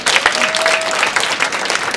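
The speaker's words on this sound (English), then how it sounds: "Shall we give them a round of applause?" An audience at a conference on Franciscan vision and Pope Francis breaks into steady, dense applause that lasts the full two seconds.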